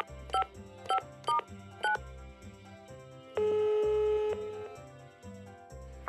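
Telephone dialing tones on a TV entertainment show as the studio places a call, a few short separate keypad beeps followed by a longer held tone over a soft rhythmic music bed.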